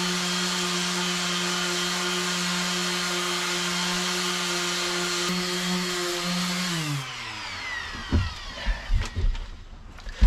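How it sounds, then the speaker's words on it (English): A power sander drones steadily at close range, rough-sanding a wooden boat, then its pitch drops as it winds down, followed by a few scraping knocks. "Now this is just the first rough sanding."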